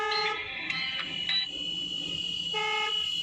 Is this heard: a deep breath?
no